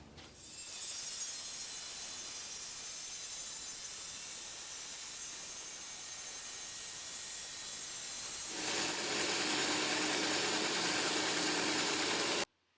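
A worktable bandsaw sawmill slices a cedar log, starting with a steady whirring hiss that grows louder and harsher partway through the cut, then stops abruptly at the end.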